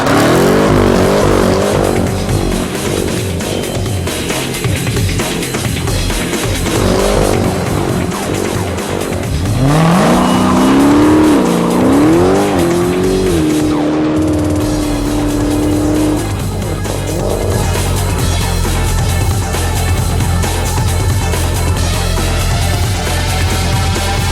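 A 2015 Dodge Challenger SRT Hellcat and a 2015 Chevrolet Camaro ZL1 do burnouts, engines roaring loud and continuous with rising and falling revs and sustained tire squeal throughout.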